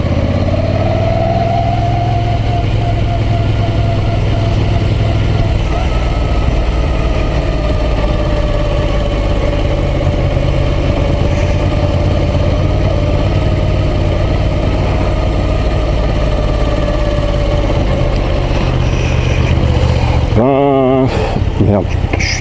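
A Moto Guzzi V9 Roamer motorcycle engine runs steadily and loudly up close on a ride, with a constant low throbbing drone and a rider speaking over it.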